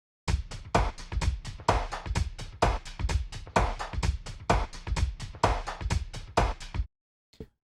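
An airy percussion loop plays on its own at moderate volume, a steady run of crisp hits with a soft, not very strong kick, stopping abruptly near the end with one faint trailing tap.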